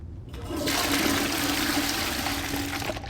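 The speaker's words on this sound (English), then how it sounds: "Taking a toilet flush there." A toilet flush in the game Hogwarts Legacy rushes in loud and close, a steady roaring surge of water lasting several seconds with no talking over it.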